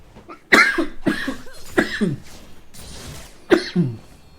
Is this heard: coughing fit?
yes